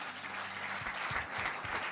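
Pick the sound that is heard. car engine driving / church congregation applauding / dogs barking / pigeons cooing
church congregation applauding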